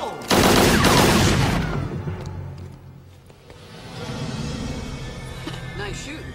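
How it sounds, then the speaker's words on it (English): Rapid gunfire from Carnosaur 3: Primal Species erupts in a loud, dense burst, then fades into a rumbling, noisy background. "Nice shooting, Tex."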